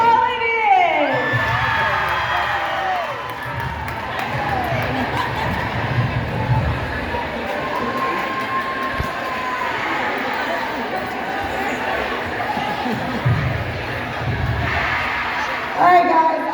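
Students at a high school Pink-Out pep rally keep up a long, loud roar for the basketball team, with whoops, shouts and chatter blending into a dense crowd noise that flares at the start and end.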